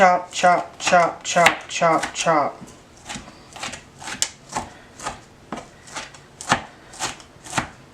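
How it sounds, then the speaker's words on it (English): Fresh cilantro chopped with a knife on a board for shrimp tacos, a run of quick rhythmic taps that slows into evenly spaced, sharper chops, with a voice talking over the first few seconds. "So I'm just going to chop."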